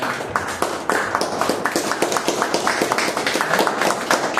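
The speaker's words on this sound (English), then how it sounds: "Please have a good round of applause for Veena." Members of a Toastmasters club meeting give a round of hand claps, a dense, even patter that runs for several seconds at close range with no talking.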